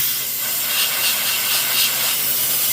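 A Harbor Freight steam cleaner hisses in a loud, steady, continuous spray while cleaning grease off an engine during timing chain work.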